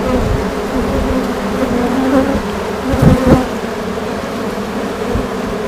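Honeybees swarm at an open hive, a dense, loud, steady buzz up close, with a few individual bees droning past near the microphone.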